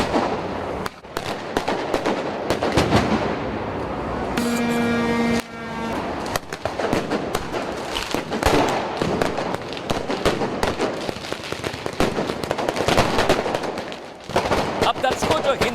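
Firecrackers set off by a violent crowd during street clashes in Milan, a dense run of sharp cracks and bangs going off continuously, loud and close amid crowd noise, with a sustained whistling tone briefly rising above the din.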